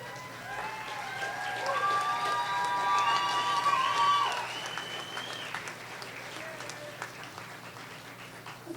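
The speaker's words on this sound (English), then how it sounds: "I'd like you to give them a round of applause." A graduation commencement audience of family and friends breaks into sustained applause and cheering that swells and holds for a few seconds, then tapers, with a faint voice coming over the speakers near the end.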